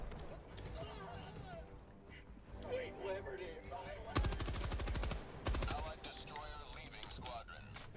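Machine gun fire in Helldivers 2 breaks out in two rapid bursts midway through, loud against a busy backdrop of game effects, with a voice talking through much of it.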